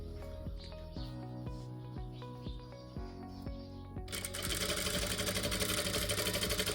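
A sewing machine stitches along fabric piping with a cord inside, a rapid rhythmic mechanical clatter heard close up in short bursts, then a brighter, denser whirring run with no talking.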